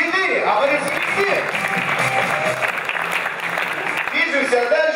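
Studio audience at a KVN comedy contest applauding as team scores are announced, steady broadband clapping with speech and a host's voice mixed over it throughout.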